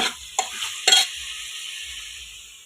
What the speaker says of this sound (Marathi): रक्की काय त्याला सारखं ढवळत बसती